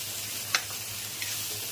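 Corn chevda simmers in a pan over low gas, giving a steady soft sizzle and bubble with a couple of faint pops, quiet and continuous.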